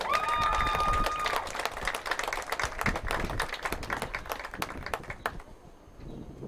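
Crowd applause at an outdoor college softball game, with scattered claps and cheers rising over a busy, noisy background as a 2018 honoree is recognized, a whistle-like tone early on, fading slightly near the end.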